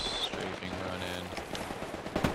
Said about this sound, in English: Strafing run in.